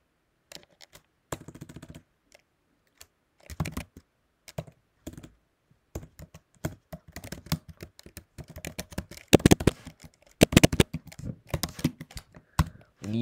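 Computer keyboard typing while writing a script, sparse scattered keystrokes at first building into faster, denser bursts of clicking, close and alone without talk.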